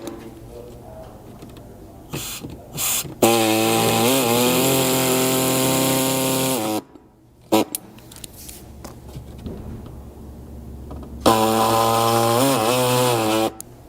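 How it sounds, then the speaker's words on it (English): A power tool cuts a small rectangle out of the wheel opening of a 200 Series Land Cruiser. It gives off loud, close, buzzing cutting bursts with pitch sweeps as it bites, separated by short pauses and brief handling noise. "Now the cut in here is just going to be a small rectangle of material that needs to be removed."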